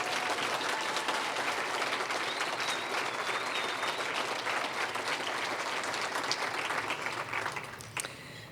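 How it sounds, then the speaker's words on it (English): A crowd at the 20th annual Peace Builder Awards for the Whatcom Dispute Resolution Center gives sustained applause for award recipients and poets. The clapping is dense and steady throughout, then fades near the end. "Shall we do a round of applause for all of our wonderful award recipients and poets?"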